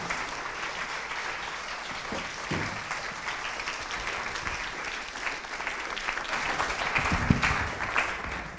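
Audience applause fills a hall as a singer and lecturer is welcomed to the stage at St John's for a talk on Schubert's Winterreise. The clapping is dense, steady and sustained, swelling slightly near the end, with no speech.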